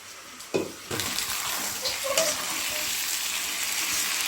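Chicken masala sizzles in a pan at a moderate, steady level, with a couple of sharp utensil knocks early on and light stirring.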